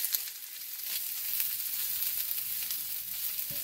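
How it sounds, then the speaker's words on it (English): Onions saute in a hot pan for Jamaican steamed fish, a soft continuous sizzle and crackle close by with no talking. "I'm going to move into adding my onions. And we're going to saute this just a bit with everything else."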